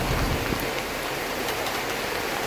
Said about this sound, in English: I'm getting rained on quite aggressively.